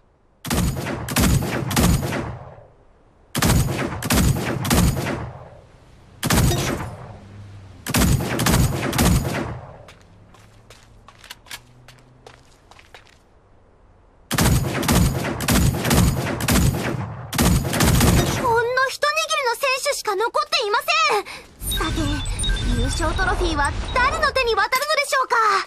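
In the mecha shooter Super Mecha Champions, bursts of rapid gunfire come in repeated volleys separated by short pauses, followed by a quieter stretch and then denser firing mixed with sweeping whines and game effects.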